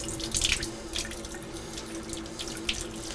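Water is pushed under keg pressure through a beer line to rinse out OxyClean, running as a steady faint flow with small splashes and drips and no talking.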